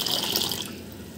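Water is poured steadily into a pan of soaked sabudana, a brief close splashing and gurgling rush with no voices.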